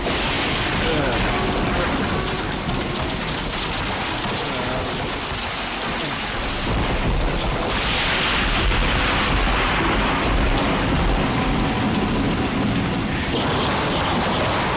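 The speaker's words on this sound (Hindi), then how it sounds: "इतनी बारिश हो रही है" Heavy rain pours down in a dubbed South Indian movie scene, a loud and dense hiss that fills the whole stretch, with a low rumble and occasional swells beneath it.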